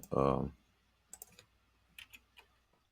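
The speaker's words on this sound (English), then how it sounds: "I can type a little bit." Sparse clicks of typing on a computer keyboard, a few short bursts of keystrokes heard close and quiet after a brief spoken phrase.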